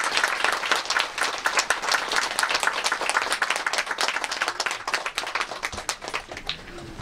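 Audience applause after a Japan Ground Self-Defense Force 2nd Band concert in Aibetsu, a dense, sustained burst of many people clapping at moderate distance for about seven seconds.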